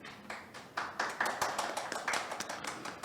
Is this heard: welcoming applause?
yes